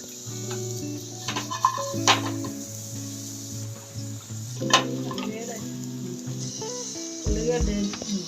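Onions fry in a pan for mirchi masala, a moderate steady sizzle with intermittent clinks and scrapes of a utensil against the pan.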